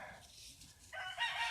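Backyard chickens cluck softly in a peaceful yard, and a rooster breaks in with a loud, close crow that carries through the rest of the moment.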